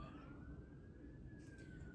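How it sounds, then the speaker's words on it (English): A faint siren wails outdoors at a distance, a single slowly rising tone heard through a steady low rumble of background noise. "there go them sirens outside"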